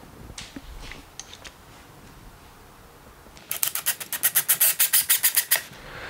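A drill drives a screw from the kit into wood to mount a ChargePoint Home Flex Level 2 EV charger, giving a loud rapid ratcheting burst of about two seconds after a few faint scrapes and clicks.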